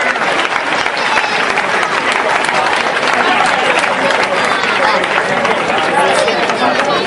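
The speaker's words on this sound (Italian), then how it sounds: "li facciamo salire sul palco a ricevere l'applauso" An audience gives loud, steady applause as a youth basketball team is brought up onto a festival stage, a dense unbroken wash of clapping with crowd noise and some voices mixed in throughout.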